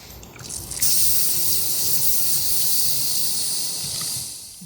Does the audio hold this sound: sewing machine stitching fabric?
no